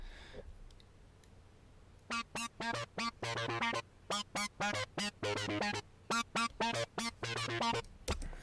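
Short, clipped synth notes from an ES2 synthesizer arpeggio in Logic Pro, rapid rhythmic plucks in a repeating pattern, fairly quiet and heard alone.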